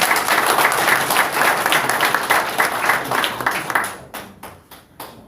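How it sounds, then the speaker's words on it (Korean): An audience at an emergency meeting of right-wing group leaders bursts into loud, dense applause that holds steady, then thins into scattered individual claps near the end. "뜨거운 박수 부탁드리겠습니다."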